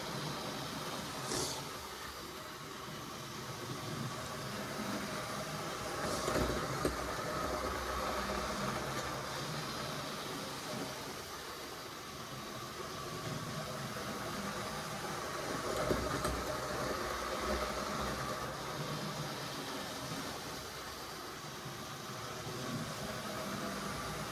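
A model railway locomotive pulling coaches on track, a faint steady whirring motor hum with soft rail rumble that swells and fades slightly as it circulates.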